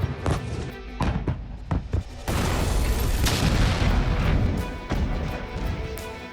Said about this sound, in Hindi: रॉकेट दागे जा रहे हैं, एक लॉन्चर रुकता है तो दूसरा वार करता है।